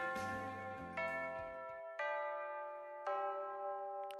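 A school chime in the game Primal Hearts 2 rings four clear, sustained bell tones in a slow descending sequence, each note ringing out and overlapping the next, with a faint low murmur under the first notes.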